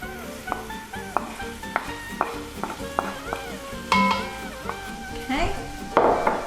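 Onions go into a hot pot on the stove for a quick pumpkin soup, with a steady frying sizzle and sharp clinks and scrapes of stirring and pot contact scattered throughout at close range.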